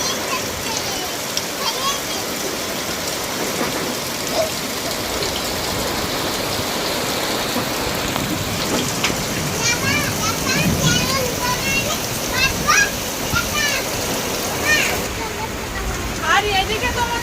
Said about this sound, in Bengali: মাঝে মধ্যে প্রচন্ড ঝড় বৃষ্টি হচ্ছে।